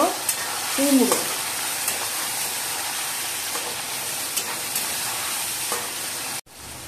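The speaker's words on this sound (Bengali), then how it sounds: "চিংড়ি মাছটা 2-3 মিনিট মতো ভাজার পরে" Prawns and potatoes frying in a pan give a steady, close sizzle with brief stirring scrapes near the start and an abrupt break near the end.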